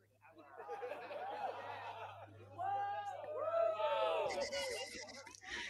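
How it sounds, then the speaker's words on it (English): Excited crowd of eclipse watchers chattering and chuckling during a total solar eclipse, with voices rising in bursts of babble and laughter, a steady low hum underneath and a louder noisy swell near the end. "The crowd seems excited."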